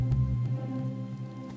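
Rain falls at midnight, a steady, even wash of patter close by, with a low hum underneath and no voices.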